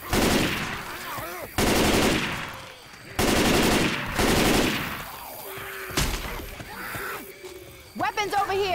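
Bursts of gunfire from a Left 4 Dead 2 versus match in the Swamp Fever campaign, loud, repeated clusters separated by short gaps, with players shouting over the shooting.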